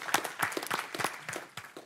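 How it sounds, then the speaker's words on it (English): Scattered applause from a small group at a city council meeting: faint, distinct claps in an uneven rhythm, sounding somewhat distant and thin. "So he deserves a round of applause."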